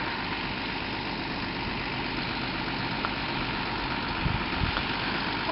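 A farm tractor engine idles in a steady low drone throughout, loud and close, with no talk over it.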